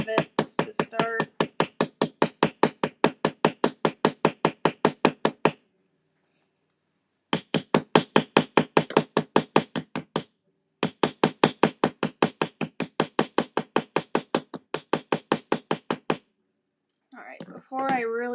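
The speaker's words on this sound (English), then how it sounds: "I'm going to start with my rounded side because that helps me when I'm mushrooming the rivets to start." A small hammer taps rivets on a jewelry piece to mushroom them, delivering long runs of quick, evenly spaced metallic strikes broken by brief pauses, close and crisp, with a short voice near the end.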